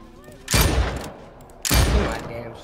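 Heavy gunfire in the Dead Homiez 2 video game: two loud, close bursts of shots, each lasting about half a second, separated by a short gap, with game background noise underneath.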